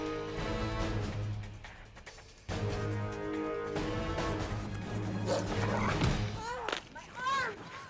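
Dogs barking and yipping in a televised superhero challenge show, short sharp barks near the end that rise over music and a talking voice.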